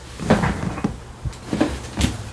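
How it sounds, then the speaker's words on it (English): A porch door shuts with several soft knocks and thuds in quick succession, close by and fairly quiet, with no talking. "So I forgot to shut the, door to the porch."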